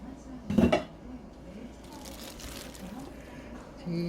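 A cooking pot lid is lifted during preparation of a braised napa-cabbage greens dish, giving one brief metallic clatter near the start, followed by quiet kitchen background.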